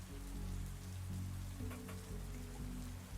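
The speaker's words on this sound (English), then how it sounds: "You hear the rain pouring against the window, with every drop sounding like hooves pounding on a battlefield onward to war." Rain pours against a window as a soft, continuous patter under a low steady hum, quiet and without talking.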